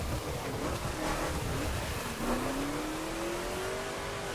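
A modern American muscle car engine in a racing video game drones steadily, its pitch climbing slowly as the revs rise, loud and continuous with a dense roar throughout.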